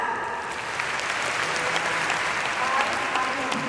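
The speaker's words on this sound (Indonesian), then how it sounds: "Alhamdulillah, ada tepuk tangan." Steady, dense applause from a youth education audience in Gresik fills the space, loud and sustained without pause.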